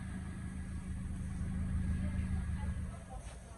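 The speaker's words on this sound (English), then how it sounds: "So when we start the car," A Toyota Corolla 1.8 engine runs in a steady, fairly quiet mid-pitched hum close by, with no clear cranking burst.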